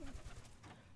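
Pigeons cooing at a loft along the Capistrano Loop in Pensacola, Florida, with low soft coos repeating in short pulses, fairly close and moderately loud, with no one talking.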